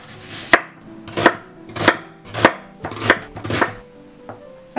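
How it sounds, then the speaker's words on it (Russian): A knife chops onion into large pieces on a board, six sharp, evenly spaced chops about half a second apart, close and loud, with a lighter tap at the end. "Поэтому нарезаю на свободные кусочки."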